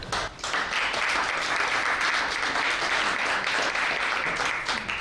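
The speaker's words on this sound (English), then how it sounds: "Please give a round of applause for Kerri Walker." Audience at a Wenatchee Valley conference applauding as the first speaker, Kerri Walker, comes up, a steady round of many hands clapping for several seconds.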